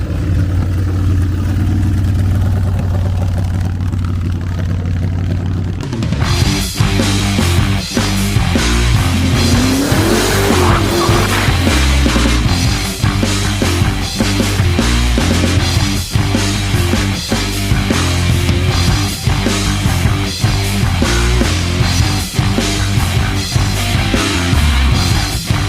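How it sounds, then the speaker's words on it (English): A 2004 Bourget Fat Daddy motorcycle with a 124-inch S&S high-output engine idles briefly at a low rumble, then fires into a loud, close, lumpy V-twin throb with sharp rapid pulses and blips of revving that continue steadily to the end. "it's got the 124 inch S&S high output engine on old baby"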